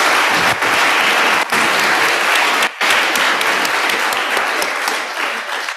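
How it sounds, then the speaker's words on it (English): Audience applause after senior speeches at a school event, loud sustained clapping from a large crowd in a hall, with a couple of brief dips before it slowly tapers. "Let's give them another round of applause."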